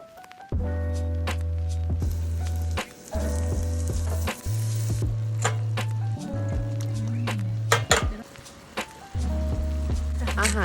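Champignon mushrooms stir-fry in a pan at a night campsite in a Thai national park, with sizzling that cuts in and out over several seconds, punctuated by clinks and scraping.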